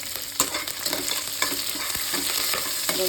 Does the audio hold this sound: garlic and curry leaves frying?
yes